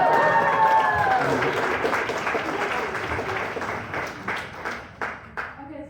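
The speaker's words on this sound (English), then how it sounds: "You can applaud." Steady applause from a horror film festival panel audience in Houston, dense clapping that slowly thins out toward the end with a few distinct claps.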